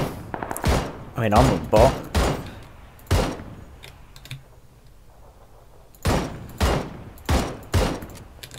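Several sharp gunshots in the battle-royale shooter PUBG come in two bursts, three or four loud reports each, with a quiet stretch between them. Someone talks over the early shots.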